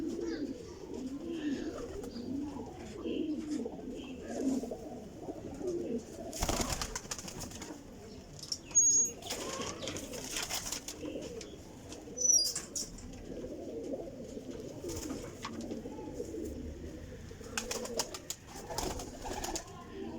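Flying pigeons in Jhelum coo in a steady, soft, low murmur, broken by several loud bursts of wing flapping. The sound is continuous and fairly close.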